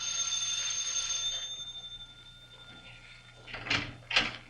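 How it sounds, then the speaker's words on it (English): Two bright bell rings sound at the door of a club in an old detective radio drama, arriving close together near the end after a stretch of low hum and faint room noise. "First, I rang the bell."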